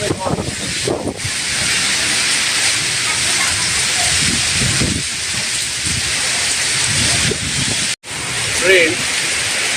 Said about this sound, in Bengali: প্রচন্ডভাবে বৃষ্টি শুরু করছে প্রচন্ডভাবে ঝড়